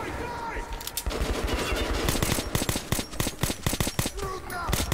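Rapid gunfire from the video game Metro 2033 Redux, a sharp burst of automatic shots in quick succession, loud and close, with brief voices heard near the start.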